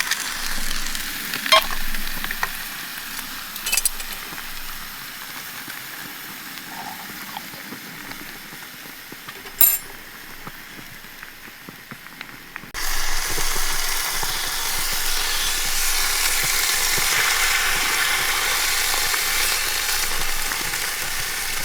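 A full English breakfast fries in pans on a British Army stove, with a faint crackle and occasional clinks before a much louder, steady sizzle takes over midway as a second pan joins; no voices.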